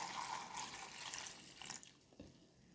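Cold milk poured into a watermelon drink, a steady close liquid splashing and trickling for about two seconds, then fading to quiet with a few faint drips and clinks.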